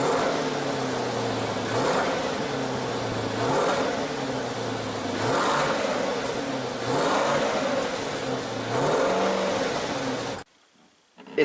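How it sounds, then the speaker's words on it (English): A C8 Corvette exhaust revs repeatedly in rising and falling surges, loud and close, with a faint rattle from the exhaust; the engine cuts off abruptly near the end, leaving near silence. "I can still hear a little bit of rattling noise coming from the exhaust"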